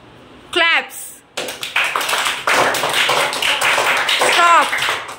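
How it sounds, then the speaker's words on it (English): A few sharp hand claps ring out close by in quick bursts, set between spoken words in a classroom action-word drill, with a voice heard around them. "Claps."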